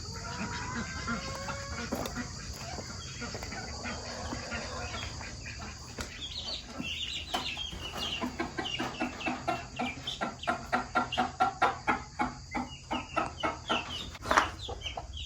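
Farm chickens cluck steadily at close range, building into a rapid rhythmic run of clucks and squawks, with ducks also kept on the farm and faint background noise.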